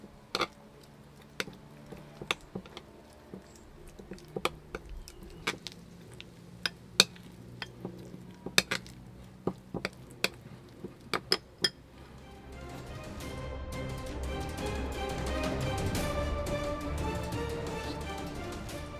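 A spoon clinks and taps against a bowl while ingredients for bacon appetizers are mixed. The sharp knocks come in an irregular rhythm, then a softer, steady rustle of stirring follows toward the end.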